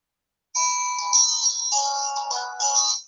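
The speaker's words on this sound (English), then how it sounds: "Oh my God, someone, I need to put this phone on silent." A mobile phone ringtone sounds after a half-second of silence, a loud electronic melody of warbling tones that plays continuously for over two seconds before cutting off.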